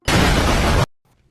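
A loud, abrupt explosion blast from a video game, a dense roaring burst lasting under a second, then cut off into near silence.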